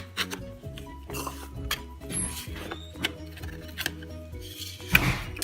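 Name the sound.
knife run around the edges of a cake pan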